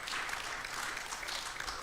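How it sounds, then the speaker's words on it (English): Audience applause at a university funding conference, steady dense clapping filling the short stretch at low volume, heard from a distance in a large hall. "Let's clap for him."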